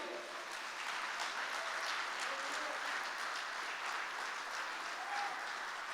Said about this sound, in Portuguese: Alguém pode aplaudir o Senhor aqui?